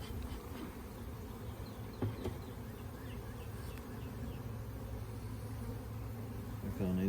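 Dense, steady buzz of many honeybees swarming around an open, strong spring hive during an inspection, close and continuous with a few louder passes near the end.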